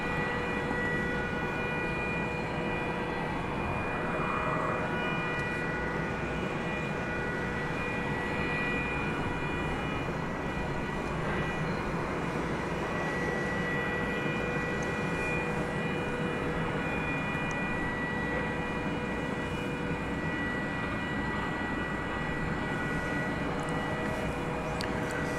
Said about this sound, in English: What I see in the sky, just approaching now, is American Flight 2104 from Minneapolis, St. Paul. That'll be a 737-800